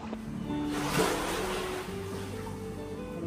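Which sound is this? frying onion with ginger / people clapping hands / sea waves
sea waves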